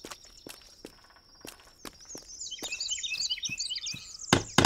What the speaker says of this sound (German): Ich höre hier einen Specht.